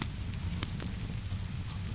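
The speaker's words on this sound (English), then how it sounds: "The rain maintained its gentle percussion on the skylight" Gentle rain patters steadily on a skylight inside a workshop, a dense, even hiss with a few sharper drops standing out now and then.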